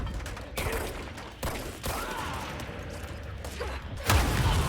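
A loud explosion blasts in a shooting video game, a sudden booming burst among rapid gunfire and thumps, close and harsh, with brief voice sounds.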